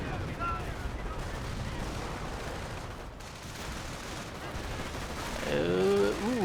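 Rolling battlefield gunfire with bursts of machine-gun fire and explosions in the strategy game Company of Heroes, continuous and busy, swelling louder toward the end.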